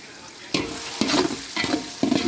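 Onions sautéing in a salted pan, a steady sizzle broken by four scraping stirs about half a second apart, close and moderately loud with no voices.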